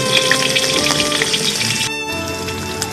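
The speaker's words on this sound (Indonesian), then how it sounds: "Sekarang saya akan menaruh bahan-bahan yang tadi saya ulek ke dalam wajan tersebut" Ground spice paste fries in a hot wok with a steady, close crackling sizzle throughout, dipping briefly near the end before picking up again.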